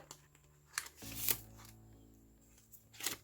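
Paper cash banknotes being stuffed into a budget envelope, a few soft close rustles and crisp flicks with quiet gaps between, no talking.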